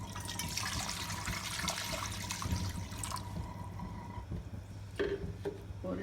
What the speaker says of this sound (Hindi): 1 लीटर के करीब पानी डालेंगे हम इसमें।